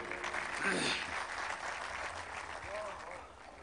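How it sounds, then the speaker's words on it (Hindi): Clapping from the audience at a Delhi mushaira poetry gathering, a sustained, fairly distant wash of applause with a voice briefly audible within it. "एक बार जोरदार तालियां आपके लिए"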